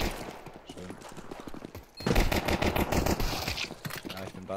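Rapid gunfire from the game Counter-Strike 2, dense bursts of shots that grow louder and busier after a brief lull, with game sounds layered throughout.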